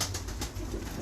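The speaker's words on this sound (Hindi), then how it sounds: "ये कबूतर है।" A pigeon at a breeder's loft gives a short run of soft, throaty coos, close to the microphone and heard alone.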